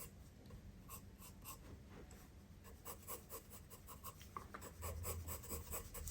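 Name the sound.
pencil shading on paper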